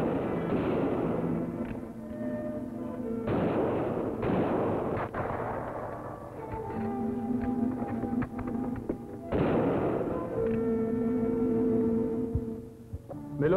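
Rifle gunfire in a 1957 TV adventure series, loud and sustained, with repeated sharp blasts and booming reports over a dense mix that keeps up nearly without pause.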